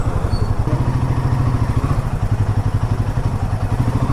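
A Royal Enfield Himalayan 450 motorcycle rolls up to park, its engine thumping in a steady, loud, close pulse throughout with a slight mechanical clatter and no voices.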